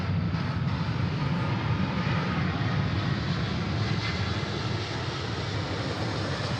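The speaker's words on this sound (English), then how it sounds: "No wing lights on for the A380 tonight." A steady, loud jet roar from an Airbus A380 airliner passing at Sydney Airport at night. The broad rumble holds constant throughout with no voices over it.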